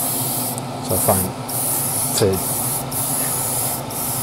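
Revolution airbrush with a 0.5 needle spraying paint onto a Tamiya Castrol Celica WRC body, a steady close hiss broken by short pauses, under a voice.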